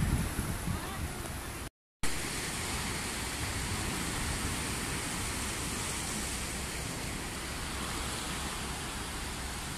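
Steady strong wind roaring and buffeting across the microphone on Tung Lung Chau island, Hong Kong, broad and constant, with a brief dropout early on.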